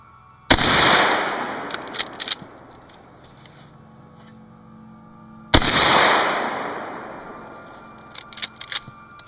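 Two loud, sharp .35 Marlin rifle shots about five seconds apart, each followed by a long echoing decay and scattered clicks of handling between.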